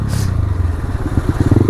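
A motorcycle engine labours close by on an uphill road with a rough, throbbing low rumble and rapid popping pulses, loud and alone throughout.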